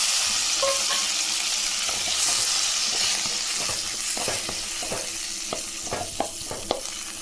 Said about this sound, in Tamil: சின்ன வெங்காயம் ஒரு கைப்படி நிறைய நல்லா இதாக வதக்கி கூடவே பெரிய சைஸ் ஒரு தக்காளி